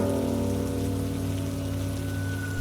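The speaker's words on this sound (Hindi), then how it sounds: "अब रात हो चुकी थी और बारिश अभी तक नहीं रुकी।" Steady rain falls at night as a story sound effect, a continuous, even hiss with a low rumbling bed that holds at the same level throughout, with no voices.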